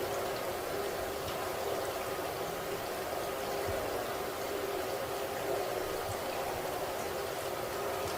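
Steady running water pours continuously throughout, a dense, even rushing hiss with faint bubbling texture, close and unbroken with no voices.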